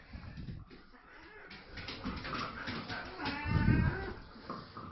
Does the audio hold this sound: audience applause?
no